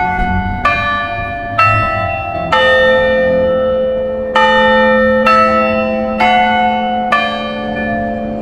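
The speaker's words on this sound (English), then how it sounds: "The bell rings on the hour." The Temple University Bell Tower bell rings on the hour, eight loud, evenly spaced strikes on campus, each ringing on with a long humming decay.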